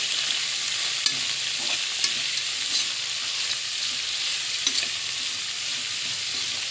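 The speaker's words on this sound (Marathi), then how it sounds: "कोबी आपण फिरवून घेऊया कोबी जरा चांगला भाजून घेऊया" Shredded cabbage fries and is stirred in a pan, giving a dense, even sizzle with occasional light clicks of a spoon against metal, near and steady, no speech.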